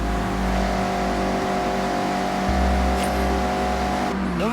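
A Mazda MX-5 engine in the Forza Horizon 6 racing game holds a steady droning hum with a shift in pitch midway, ending with a rising whine.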